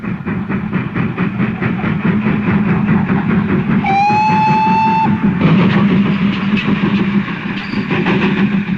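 The King George V No. 6000 steam locomotive rumbles steadily past with rhythmic clatter, and a loud whistle sounds for about a second midway before the rolling noise carries on.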